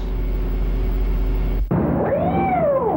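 After a steady low engine-like rumble cuts off, a cat gives one drawn-out, rising and falling meow close by.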